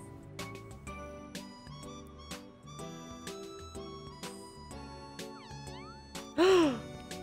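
A cat meows once near the end of a stretch of plinking background music in the video game Omori, a single loud, clear, drawn-out meow standing out over the melody.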